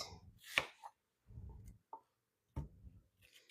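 Knife chopping through an onion on a cutting board, with a few separate cuts spaced over several seconds and short pauses between strokes, close and clear with no voices.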